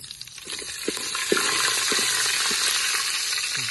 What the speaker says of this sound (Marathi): आता तेल उडण्याची शक्यता दाट.